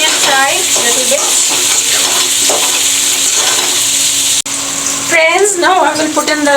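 Onion frying in a pan for a Bihari-style egg curry, a loud, steady sizzle and crackle running throughout, close up, with a voice speaking over it.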